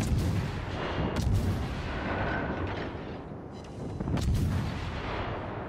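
Naval artillery shell fire in the PS4 game World of Warships Legends, a dense rumbling barrage of booming shots and heavy low-end blasts that continues for several seconds without a break, with no talk over it.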